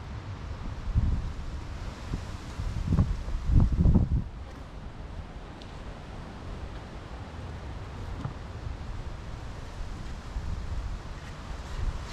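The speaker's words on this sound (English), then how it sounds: "Sorry, it is windy today." Wind gusts across an outdoor apiary beside a three-frame mating nuc, a steady broadband rush with louder buffeting bursts near the start, no voices.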